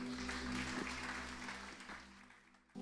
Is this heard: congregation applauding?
yes